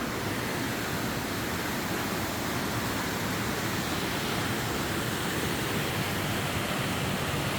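A creek rushes beneath a wooden footbridge on a Mount Kilimanjaro trail, a close, steady, hissing roar of flowing water that never lets up.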